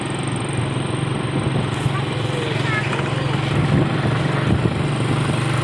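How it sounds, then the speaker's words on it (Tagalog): Motorcycle engine drone heard while riding on the road, a steady low rumble with wind noise throughout, no clear talk over it. "So nakasakay na po tayo sa motor, nahuli po tayo."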